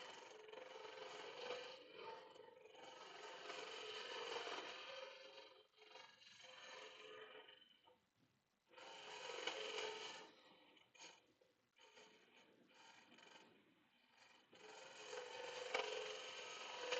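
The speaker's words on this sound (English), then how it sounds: "These hollowing tools like the slower speed." A hollowing tool scrapes and cuts into wood spinning on a slow lathe, making faint, rough rasping bursts that come and go with brief pauses between cuts.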